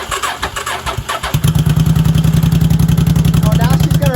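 A 1983 Honda Shadow motorcycle engine cranks briefly, then catches and settles into a loud, steady, rhythmic idle close by, with a voice briefly over the start.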